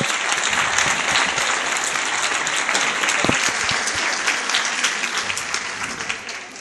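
Sustained, dense applause from a conference audience welcoming the cartoonists El Fisgón and Antonio Helguera, loud and steady throughout before tapering slightly at the end.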